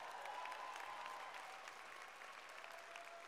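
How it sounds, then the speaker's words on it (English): Steady audience applause at a swearing-in ceremony, a dense, even wash of many hands clapping throughout, fairly distant and moderately quiet, with no clear talk over it. "Let's give her another round of applause"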